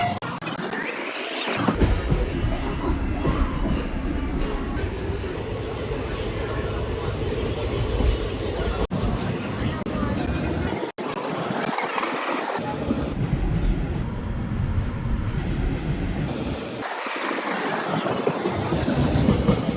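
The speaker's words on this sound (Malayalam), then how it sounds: "കണ്ണൂർ ട്രെയിൻ എങ്ങനെ വരുന്നുണ്ട് നോക്കാം" A train pulls into Kasaragod railway station in Kerala with a loud, close rumbling roar and rhythmic clickety-clack of wheels over rail joints, swelling and easing in waves as the carriages roll past.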